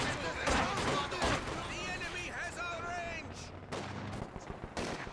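Maxim machine gun fire in the Company of Heroes 2 war game, bursting amid dense battlefield gunfire and explosions, with a continuous roar of combat and sharp crackling shots throughout.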